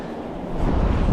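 Strong wind gusts buffet the microphone on a cold winter shoreline while sea-trout fishing, a low roaring rush that swells louder halfway through the short burst.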